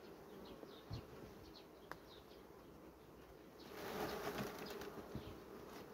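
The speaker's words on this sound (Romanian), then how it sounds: "Iată, e plin cu albina." Honeybees hum in an opened hive of a small colony, a soft continuous buzz that swells louder midway as frames are moved, with occasional brief sharper sounds.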